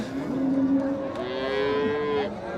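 A Friesian cow moos in a long, drawn-out call, followed by a second lower moo, fairly close with background noise of a cattle market.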